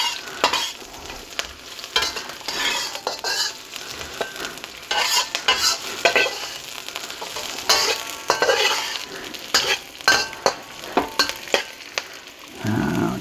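Onions sizzle in a hot pan while a spoon scrapes and stirs them in irregular bursts, steady frying hiss underneath, close and moderately loud with no talking.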